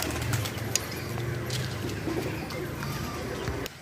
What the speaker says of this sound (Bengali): এই গাছে যে পায়রাগুলো বসেছে